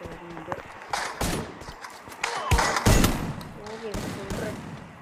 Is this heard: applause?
no